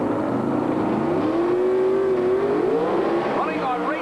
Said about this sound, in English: Chevrolet against Pontiac in the second round of Pro Stock Eliminator